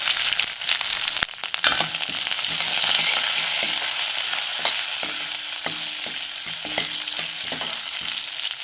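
Garlic, curry leaves and broken dried red chillies fry in hot oil, giving a steady, dense sizzle that swells around the third second, with scattered stirring clicks and scrapes against the pan throughout.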